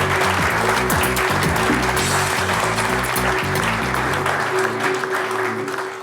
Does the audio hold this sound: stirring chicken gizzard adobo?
no